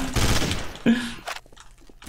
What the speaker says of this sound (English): It's burst fire, Duncan.